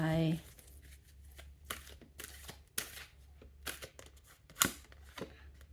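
Fortune-telling cards shuffled and drawn at close range: scattered crisp snaps and slides spaced a second or so apart, faint and sparse, with a brief voice at the start.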